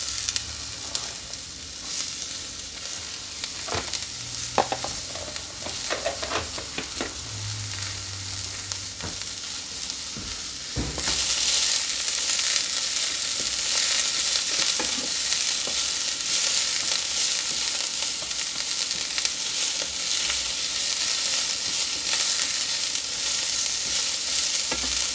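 Banana peppers sizzle and fry in a pan, with a steady loud hiss that grows stronger partway through and occasional stirring scrapes and knocks.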